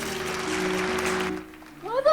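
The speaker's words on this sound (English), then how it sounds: "Why the fuck are they clapping that?" Applause from a film audience, a dense, steady patter of clapping that lasts over a second and then fades out, followed by a voice starting to speak.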